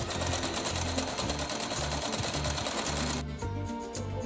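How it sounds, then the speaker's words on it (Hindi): A sewing machine runs steadily while stitching the neckline of a heavy suit, its close, loud motor hum pulsing in even bursts before easing briefly near the end. "आपने बीचों बीच सिलाई लगाते हुए चलना है और गले को बिल्कुल खींचना नहीं"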